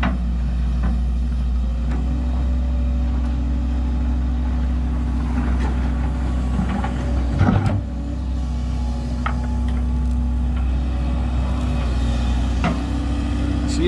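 A Case CX160C excavator engine idling at a steady low drone while it digs at a leaking pond, a constant diesel hum with faint scrapes and clanks, including one thud midway.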